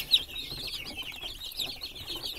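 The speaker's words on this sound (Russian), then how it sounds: "И принес я сюда цыплят маранчиков из дома и итальянскую несушку" Marans chicks and a young Italian laying hen give faint, steady high cheeping and soft clucking, a continuous thin chatter with one slightly louder peep near the start.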